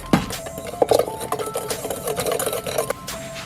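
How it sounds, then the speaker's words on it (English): Whisk stirring dry seasonings of salt, pepper and paprika in a bowl for fried shrimp batter: quick rapid clinking and scraping strokes, close and moderately loud, with no talking. "Now we whisk."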